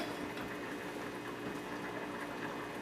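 Milk gravy boiling in a pan on the stove, a steady dense bubbling and hiss that holds even throughout, close up with no talking.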